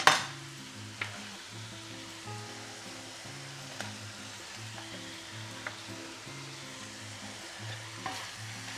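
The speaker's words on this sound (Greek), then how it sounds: "Ανακατεύω." Green onion sizzles in a hot pan while being stirred, a soft continuous frying hiss broken by occasional light spatula taps and scrapes, no talking.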